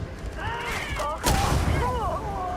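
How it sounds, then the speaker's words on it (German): Explosion in the space video game Starfield: a loud broadband boom bursts midway and rumbles on briefly, with game music tones running throughout. "Explosion schaut gut aus."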